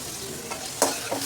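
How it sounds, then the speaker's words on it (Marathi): Chopped tomatoes frying and being stirred into sautéed onion in a pan, a continuous soft sizzle with a couple of brief scraping stirs. "कांदा छान असा परतत आलेला आहे. आता आपण टोमॅटो घालणार आहोत."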